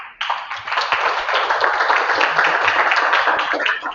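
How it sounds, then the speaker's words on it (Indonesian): An audience applauds a presenter in a classroom-style setting, a dense, steady burst of many hands clapping close by that starts abruptly and runs evenly for several seconds before tapering at the end. "Berikan aplaus kepada teman kalian."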